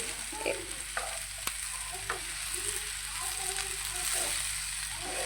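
Okra (bhindi) frying in a pan over a medium flame, with a steady close sizzle and repeated scraping stirs from a spoon. There is no talking.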